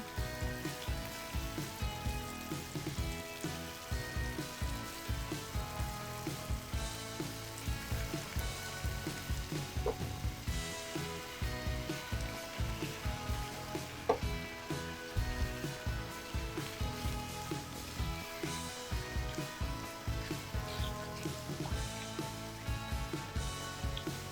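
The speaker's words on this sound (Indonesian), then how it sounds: "ini bumbunya sudah matang, kita sudah bisa masukin ikan tongkolnya" Tuna pieces fry in a pan of cooked spice paste for an Acehnese dish, making a steady, continuous sizzle and crackle at moderate loudness throughout, with a faint tonal hum underneath.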